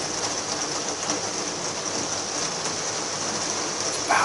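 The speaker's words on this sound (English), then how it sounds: "It ain't slacked up raining." Steady rain pours down on a farm in late afternoon, a constant broadband hiss that holds even throughout, with a brief brighter patter near the end and no voices.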